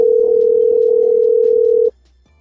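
Steady single-pitch telephone dial tone on an outgoing call, loud and continuous for almost two seconds before cutting off abruptly, with no voices over it.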